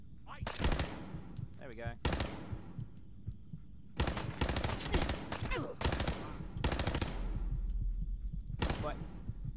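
A double machine gun fires in Fallout 4 in loud, rapid bursts, several volleys of dense gunfire separated by short gaps, with a voice briefly speaking between them.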